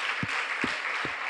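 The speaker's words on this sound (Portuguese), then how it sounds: "Você pode aplaudir ao Senhor Jesus," Church congregation applauding steadily as a broadband wash of clapping, with three brief low thumps breaking through at even intervals.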